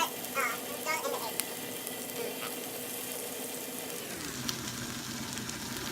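Egg fries in a hot pan with rice, giving a steady, dense sizzle that holds through the whole stretch with a few faint clinks, close and even.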